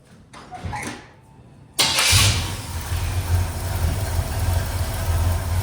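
Car engine being started after a distributor gear change, with timing light attached and vacuum advance blocked: a starter cranks briefly, then the engine catches with a loud burst and settles into a steady, rumbling fast idle.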